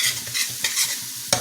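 Garlic frying in a pot for okra rice with saltfish is stirred around, a close, continuous sizzle broken by a few scraping utensil strokes and one sharp knock near the end, with no talking.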